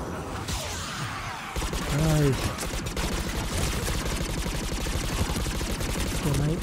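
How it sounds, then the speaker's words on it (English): Gunfire in the video game Mass Effect 3, rapid bursts of shots crackling through the scene, mixed with game sounds and a voice talking over the shooting. "All my shots are missing."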